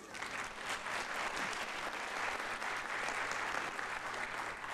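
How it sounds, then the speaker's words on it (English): An audience at a conference panel discussion claps in a dense, sustained burst, even and moderately loud throughout, with no voices standing out. "let's give a round of applause to Liz,"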